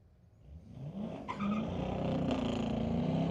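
A street-tire drag car launches at a street-legal drags night at Mission Raceway Park, engine rising to a loud sustained roar as cold street tires spin without hooking up, the squealing, droning sound filling the rest.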